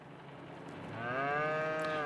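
Cattle moo in a realistic farming video game: a single drawn-out, rising moo swells over a steady background hum and holds loud to the end.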